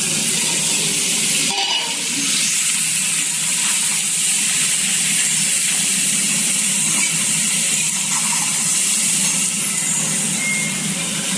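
Shredded cabbage with ginger fries in a pan with a continuous soft sizzle and hiss, plus a brief clink early on. No voices are heard.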